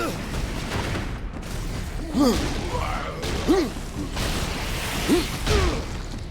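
Gunfire and combat in the game Warhammer 40k: Space Marine. Several separate bursts and impacts come with whooshing sweeps over busy battle noise, and voices shout now and then.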